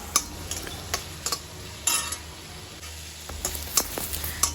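Onion and tomato roasting in a kadhai with green chili and asafoetida, a low sizzle under repeated scraping and clinks of a spoon stirring against the metal pan.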